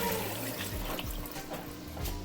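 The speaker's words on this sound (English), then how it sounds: "I'm gonna go ahead and add my water to my pot." Water poured into a cooking pot while making Jamaican curry goat, a steady continuous splashing rush of liquid close by, running unbroken for a couple of seconds with no talk.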